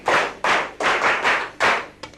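A classroom of pupils gives a short, rhythmic group clap for a classmate, about five loud, close, evenly spaced thumping claps followed by a few faint taps.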